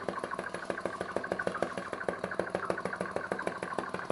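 A vacuum atmospheric engine runs steadily at low speed, about 400 RPM, producing an even, rhythmic chuffing pulse of repeated beats at moderate loudness with no voices over it.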